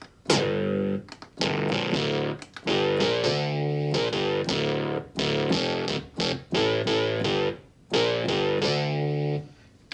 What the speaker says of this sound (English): sounds like one of those 90s bass synths